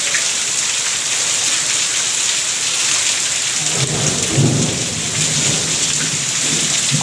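Heavy rain pours in a dense, loud, continuous hiss, and a deep roll of thunder rumbles through the middle of the downpour.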